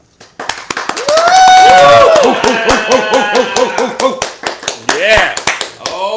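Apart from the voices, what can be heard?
studio audience clapping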